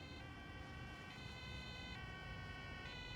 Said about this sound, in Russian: Вот и скорая подоспела.